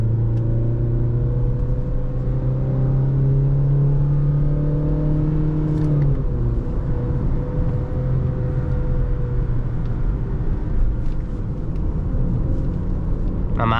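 A 2024 Honda Amaze facelift accelerating on the road, its engine droning loud and close with a rising whine that drops sharply at a shift partway through, then continues as a steady rumble with no talk.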